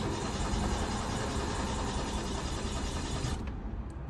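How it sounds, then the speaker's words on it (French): Renault Clio 2 with a faulty TDC sensor, starter motor cranking steadily without the engine catching, a loud continuous whirring drone close by that cuts off near the end. "Le démarreur tourne et c'est juste qu'il n'y a pas d'allumage"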